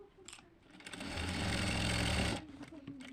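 A sewing machine stitches the neckline of a suit, a steady close whirring run that builds, holds for about a second, then stops, with a faint voice around it.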